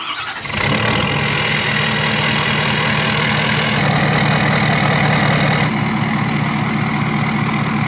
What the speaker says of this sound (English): We got ourselves a nice fresh cold start this morning.